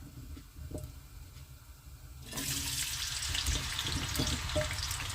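Potatoes are dropped into a heated pan and set off a sudden sizzle midway, after which a steady, close crackling hiss continues on its own with no voices.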